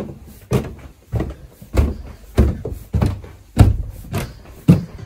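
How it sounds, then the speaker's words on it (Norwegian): Someone climbs a wooden cabin staircase, producing about eight heavy footfalls at an even pace of roughly one step every half second, each a close, hollow thud on the boards. "hør nå hvor mye den trappa her knirker"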